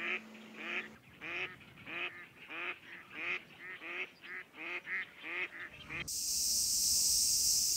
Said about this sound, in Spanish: Es el carúgamo, o conocido como el pato bico pinto.